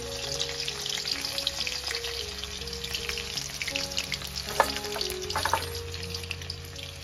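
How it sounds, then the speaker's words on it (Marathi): Chopped garlic fries in hot oil for a fenugreek (methi) dish, a continuous close sizzle with bubbling crackle and a few sharper spatters near the end, alongside faint low tones, no speech. "तर छान असं तेल तापलंय आणि यामध्ये मी जो आपण लसूण कट केला होता तो टाकते"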